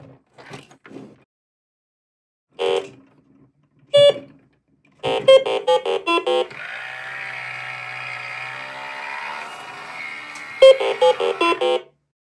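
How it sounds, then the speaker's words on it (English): A 1979 Big Trak programmable electronic toy vehicle gives off a series of short electronic beeps, then a sustained buzzing tone and a quick run of rapid beeps, close and clear with no talking. "Beep."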